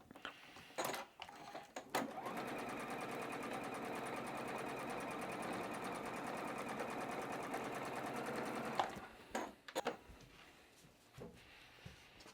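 A domestic sewing machine stitches fabric for a rosette quilting piece, running steadily for several seconds at a moderate, fairly quiet level, with a few clicks and handling knocks before and after.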